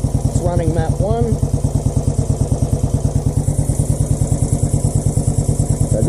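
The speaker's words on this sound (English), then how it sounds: "Settles into idle almost instantly. You can hear the induction noise, and that's because I've got the pod filters on it." A Royal Enfield Classic 500 with pod filters idles close by, a steady fast thumping beat with throaty induction noise while someone talks over it briefly near the start.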